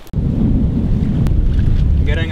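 Strong wind buffeting the microphone while windsurfing on slalom gear at Alacati, a loud continuous low roar throughout.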